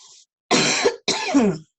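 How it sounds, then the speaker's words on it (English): Two close, sharp coughs from a teacher in a lesson on separating syllables, each a rough burst about half a second long, heard alone after a brief pause. "I'm going to cough."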